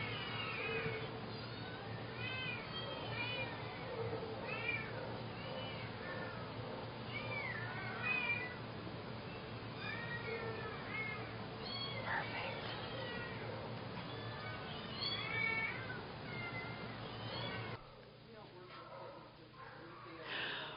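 Shelter kittens meow almost continuously, many high, plaintive cries overlapping at close range over a constant background hum, with a voice talking among them; the mewing thins out near the end.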